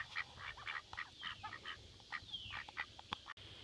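Farm ducks quack steadily in a busy chorus of short calls at a moderate distance, with low outdoor rumble underneath on a hot morning of livestock chores.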